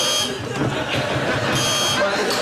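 An electric buzzer drones continuously and fairly loud through the whole stretch, a harsh steady tone with people chattering and talking over it.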